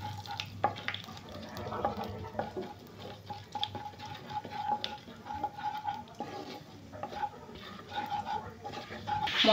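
Whole garam masala, bay leaves and cumin sizzle in hot oil for a Bengali egg and potato curry, a soft continuous crackle with occasional spoon clinks, close and fairly quiet.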